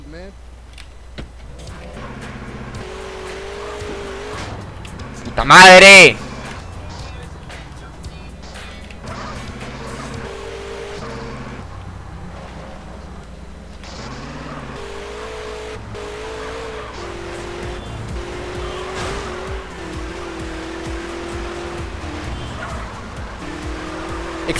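Car engine in a rainy chase in GTA: San Andreas, droning steadily for about twenty-five seconds with one sharp loud burst near the start. A voice talks over it throughout.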